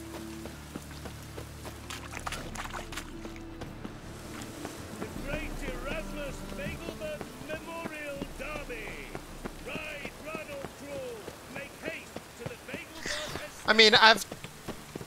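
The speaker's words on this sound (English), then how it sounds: "It's been raining for like 10 minutes." Steady rain falls in The Witcher 3, a soft continuous patter that runs beneath nearly constant conversational talk, ending with a brief louder burst near the close.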